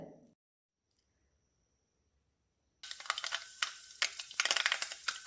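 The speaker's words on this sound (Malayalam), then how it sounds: "എണ്ണ അടുപ്പത്ത് വെച്ച് നന്നായി തിളച്ച് കഴിഞ്ഞപ്പോൾ കടുക് പൊട്ടിക്കുന്നുണ്ട്" Mustard seeds, with fenugreek seeds added alongside, pop and crackle in hot oil on the stove while grape pickle is being made: a short burst of sound, a near-silent pause, then a dense run of sharp crackles, with no talk.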